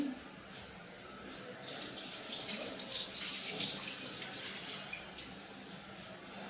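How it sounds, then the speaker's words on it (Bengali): Hands are washed under a running tap, a steady close stream of water splashing into a sink, rising a little in the middle as the hands move under it, no talk. "আর হাতটা ধুয়ে আসি।"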